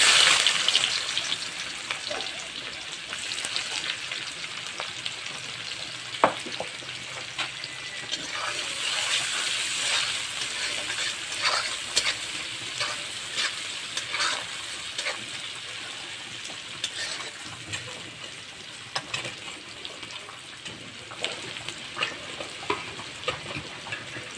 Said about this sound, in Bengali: তেলেই ফোড়ন দিব কুচানো পেঁয়াজ